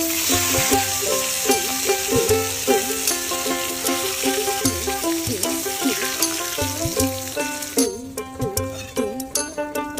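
Hilsa fish pieces rubbed with chilli powder, turmeric, coriander powder and salt fry in oil with a loud, continuous sizzle, with repeated spatula scrapes and stirs over it.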